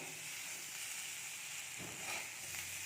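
Steady, soft sizzling of poppy seed paste frying in a pan, a continuous gentle hiss with faint stirring scrapes, no voices.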